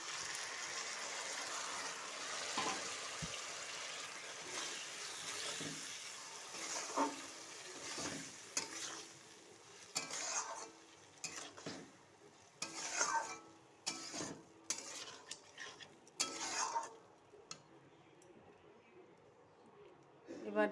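Chana dal is added to a pan of sautéed spices and stirred, giving soft, intermittent scraping and faint sizzling at a low level, with a person talking in between.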